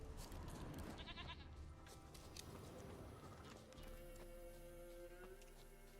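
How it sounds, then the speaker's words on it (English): Goat bleating in the video game Witcher 3, heard over a busy, continuous game soundscape with steady background noise and no talking. "can we just pick up the goat"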